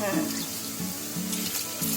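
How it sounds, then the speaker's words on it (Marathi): Cold water is poured over cooked rice, running and splashing steadily for a couple of seconds, a soft continuous pour with faint background noise and no talking. "त्याच्यावरती थोडं थंड पाणी ओतायचं."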